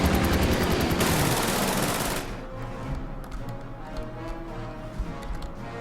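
Rapid anti-aircraft gunfire aimed at a bomber in the strategy game Order of Battle, a dense loud burst of rattling shots that stops abruptly, leaving scattered faint clicks and tapping.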